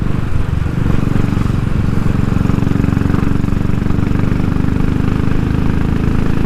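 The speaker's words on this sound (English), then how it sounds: "You can hear a bit more induction noise." A motorcycle fitted with a 45 mm pod filter and crankcase breather, ridden on cold, wet roads, gives a loud, steady engine drone with a throaty induction note, close up and unbroken throughout.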